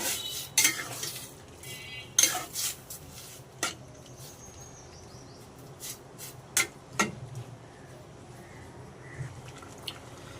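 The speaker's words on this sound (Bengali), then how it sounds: "সেগুলো এটার মধ্যে আমি অ্যাড করে দেব। ভালো করে নেড়ে দিব।" Boiled eggs are stirred into a bottle gourd curry in a pan. A utensil scrapes and clinks against the metal in sporadic knocks, with faint, wet simmering between them.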